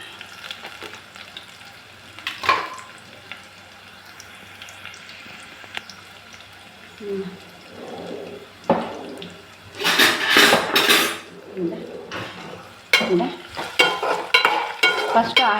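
Mustard seeds, cumin and onions sizzle and crackle in hot oil for a Karnataka-style potato and brinjal sambar, with stirring clatter and louder bursts of frying toward the end; no one speaks.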